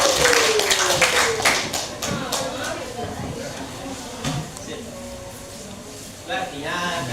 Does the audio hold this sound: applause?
yes